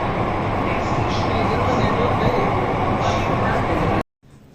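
A Mumbai underground Metro Line 3 train runs with a steady loud rumble and hiss inside the carriage, continuous for about four seconds before cutting off abruptly.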